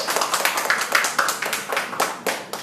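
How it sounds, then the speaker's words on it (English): An audience applauds Cebu City Mayor Tommy Osmeña at a Qualfon Philippines Friday live-day event. Lively, overlapping hand claps from a modest crowd sound close and bright, with a rippling, uneven rhythm. "How about we give a round of applause?"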